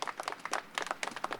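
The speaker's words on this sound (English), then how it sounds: "I'd just like to thank you guys one more time and clap for you one more time" Applause for the Garbage Advisory Committee at a public meeting announcing garbage and recycling contracts, a light spatter of hand claps from a small crowd that stays fairly quiet and steady.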